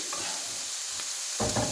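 Mushrooms sizzle in a pan for a gluten-free vegetarian stroganoff, a steady close frying hiss with stirring scrapes and clatter near the end, and no talking.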